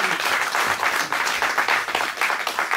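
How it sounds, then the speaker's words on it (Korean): An audience at a 2017 outdoor world music concert applauds to welcome a panflute player to the stage. Dense, steady clapping from many hands fills the whole stretch at an even loudness. "여러분 뜨거운 박수로 맞아주시기 바랍니다."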